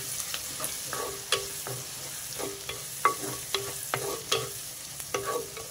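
Onions and turmeric frying in a pan, a steady close sizzle broken by repeated scrapes and stirs of a utensil at an uneven rhythm, with no voices.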